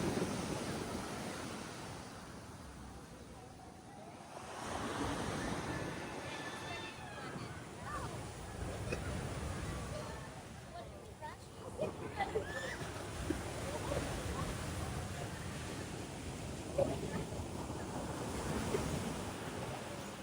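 Ocean surf at White Beach on Boracay Island, waves washing in and rolling over with a steady wash and gusts of wind noise on the microphone, faint and continuous.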